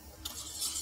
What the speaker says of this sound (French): On fouette.